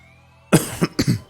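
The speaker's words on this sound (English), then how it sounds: "Coughing into the mic" A person coughs into a microphone, a sharp initial cough followed by three shorter, looser coughs in quick succession, close and loud against a quiet background.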